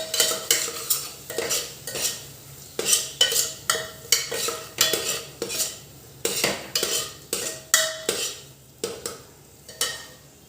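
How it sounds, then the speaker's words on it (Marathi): Ground spice masala sautéed in oil for a green moong curry, with a spoon scraping and clinking against the pan in steady repeated strokes, light sizzling underneath, close and fairly loud with no talking. "ते मसाले छान तेलामध्ये परतून घ्यायचे आहे दोन ते तीन मिनिटं तेल सुटेपर्यंत"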